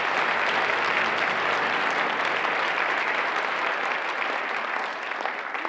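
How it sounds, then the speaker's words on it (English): Audience applause at a San Juan College Symphonic Band concert: a dense, steady wash of many hands clapping, loud and sustained for about six seconds with only a slight easing toward the end. "Can we give them all a big round of applause?"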